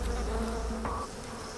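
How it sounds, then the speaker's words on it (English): A dense, steady buzz of many angry bees close by at a hive in Yunnan, China, swelling loudly then easing off slightly. "there's 11 million angry bees between us and that comb of honey"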